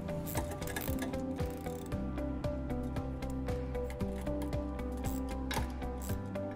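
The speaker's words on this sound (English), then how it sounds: "And then we'll tighten them using a 10 millimeter socket." Socket wrench ratcheting as nuts are tightened on a trailer wiring bracket for a 2016 Honda CR-V, a steady run of close, rapid metallic clicks over a mechanical background hum.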